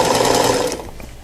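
A sewing machine stitches straight seams in a brief, loud, rapid burst that quickly winds down.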